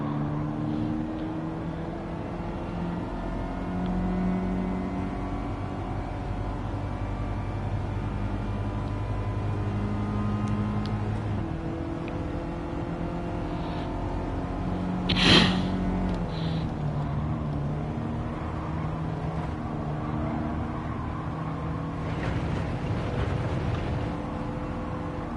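Volkswagen Golf GTI engine in Gran Turismo 7, a steady droning rev with shifting tones held throughout, joined by a brief sharp burst midway, no talk.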